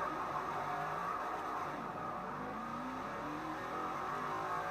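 A Panoz LMP-01 race car in the Forza 4 video game accelerates hard on a test track, its engine a steady, loud revving drone with shifting pitch and no talk.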